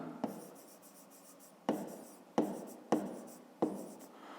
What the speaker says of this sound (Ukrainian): Так, пишемо, це у нас буде тоді ширина.